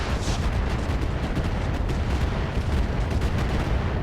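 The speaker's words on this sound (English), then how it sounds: "The Boar's Head is going to come up, and it can actually do a direct fire sniper artillery shot" A long-range direct-fire artillery shot from a Boar's Head mech in the RogueTech video game, a dense, loud roar of booming blasts that fills the whole clip without pause.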